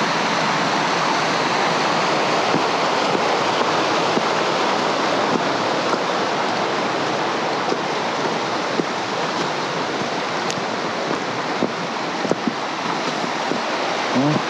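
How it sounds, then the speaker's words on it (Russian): Steady, loud rushing of a waterfall and fast-flowing mountain stream in the Khamar-Daban range, a continuous broad roar of water with no voices. "чуть ниже бревна уже первый водопад начинается."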